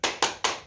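A group does the 'tepuk semangat' clapping chant, giving three sharp, evenly spaced claps in quick succession, loud and close, with no voices.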